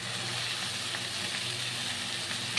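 Cabbage is added to spices sizzling in a pan, making a dense, continuous loud sizzle that stays steady throughout, close up and with no speech.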